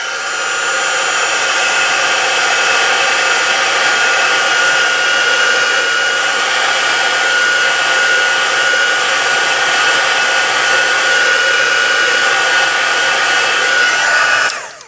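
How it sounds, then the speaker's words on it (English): A craft heat tool blows steadily to dry a handmade card, a loud, close, even hairdryer-like whir that runs unbroken for the whole stretch and cuts off abruptly at the end. "now we're going to turn on the heat tool because we need to dry this"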